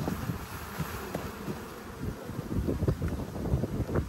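Honey bees buzz around an opened backyard hive as a brood frame is shaken, a dense, close, steady drone with rustling handling noise and some wind on the microphone.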